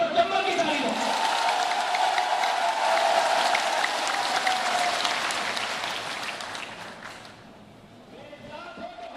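A crowd of party workers at a BJP political rally applauds steadily for several seconds to greet the speaker, a dense roar of clapping that fades near the end before a second round of clapping starts.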